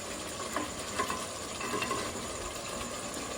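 Chicken, fat and spice masala stir-fried in plenty of oil for homemade biryani, a steady low sizzle with soft scraping stirs, faint and continuous.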